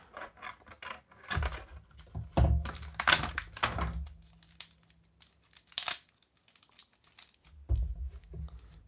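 Plastic and cardboard toy packaging for a Masters of the Universe Origins Evil-Lyn figure is opened to free her staff: close crinkling, tearing and rustling in bursts with soft thunks, then a pause and a final rustle.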